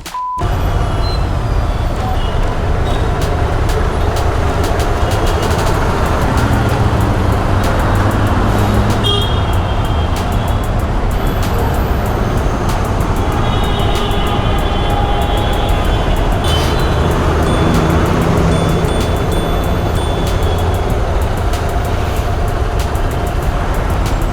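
Heavy road traffic heard from a motorcycle rider's position, a loud continuous roar of engines and rumbling vehicles that stays dense throughout, with faint voices in the mix.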